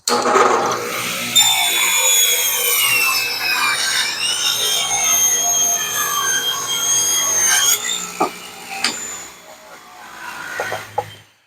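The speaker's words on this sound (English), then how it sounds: "So we're here at the miter saw. We're going to cut triangle pieces to fit in that top part of the leg." Miter saw cutting a 2x8 of reclaimed pallet wood, a loud sustained whining spin-up and bite through the board lasting several seconds, then winding down with a few knocks and handling sounds.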